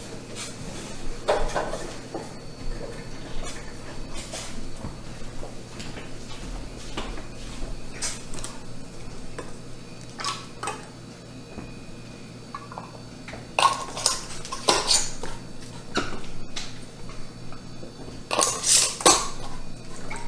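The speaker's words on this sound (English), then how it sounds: "now it's just a matter of adding your lids and rings" Metal lids and rings are set on glass canning jars of beef, giving scattered close clinks and light taps with quiet handling between, growing louder and busier toward the end.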